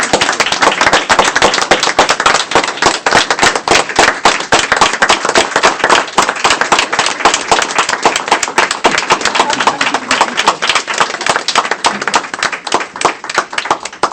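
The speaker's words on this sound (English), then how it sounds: "if you would all join me in a sincere round of applause" Sustained applause from attendees at a school board of education meeting, a loud, dense rattle of many hands clapping continuously with no pause, barely any talk over it.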